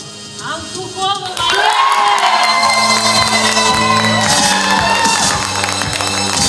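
A crowd at the Miss Zvenigorod beauty pageant breaks into cheering and applause, a loud swell of whoops and clapping that starts after a quieter opening, with music playing under it.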